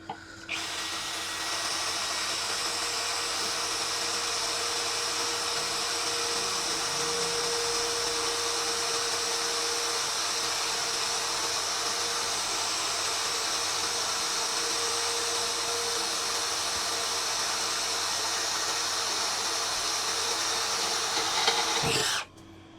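A steady, high-pitched motor whine from a DongCheng DCPL165 cordless impact driver drilling with a blunt bit, running continuously for about twenty seconds, then cutting off abruptly.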